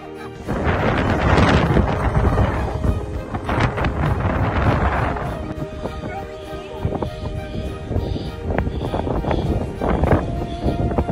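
Strong wind buffets the microphone in loud, rumbling gusts, with voices talking underneath, on the Wilson Trail in Hong Kong.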